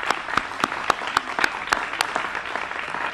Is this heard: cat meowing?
no